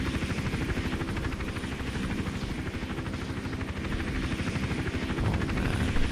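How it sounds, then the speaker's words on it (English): Helicopter hovering in Hitman: Absolution, a loud, continuous chopping rotor beat over a dense engine drone. It holds steady and swells a little near the end, with no voices. "Oh, the chopper is still there."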